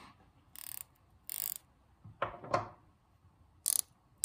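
A Blue Point fine-tooth ratcheting box end wrench clicks in several short bursts, with quiet pauses between them and a louder, duller pair of sounds in the middle.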